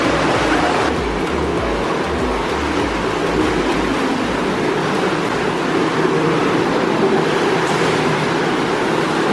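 Indoor waterfall at a hotel pool in Travemünde on the Baltic coast, a loud, steady rushing of falling water filling the hall without a break.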